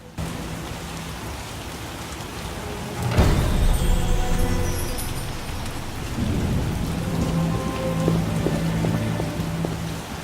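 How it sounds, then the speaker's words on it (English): Heavy rain pouring down in The Witcher video game, a dense steady hiss of drops with a low thunder rumble rolling in partway through, no voices. "What a downpour!"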